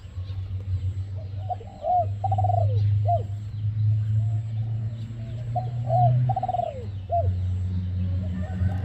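A pet dove, a cooing breed kept for its song, coos in repeated phrased bursts over a steady low hum, fairly close and clear with short pauses between calls.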